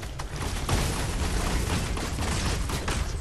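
Video game gunfire as a dense, sustained volley of loud overlapping shots and booms, with several sharper cracks standing out through the mix.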